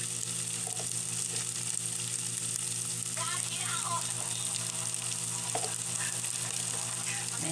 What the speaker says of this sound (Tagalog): igigisa ko na po ang sahog niya na lord. Pork siomay lang po ang aking sahog